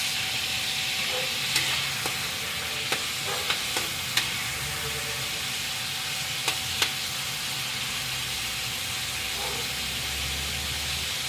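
Chopped onion frying in a pan, a steady close sizzle with occasional clinks and scrapes of a utensil stirring.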